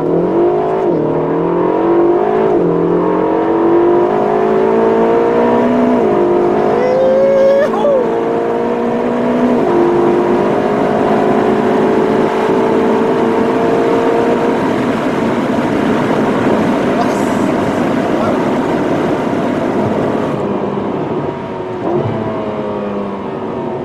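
Ferrari California T with a 560 cv engine accelerating hard on the road, loud and steady, with rising and shifting engine tones across successive gears and occasional talk inside the car.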